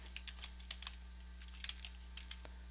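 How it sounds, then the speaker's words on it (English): Quiet keystrokes on a computer keyboard tap in small irregular clusters against a steady low electrical hum, with no voices. "just type the text in here"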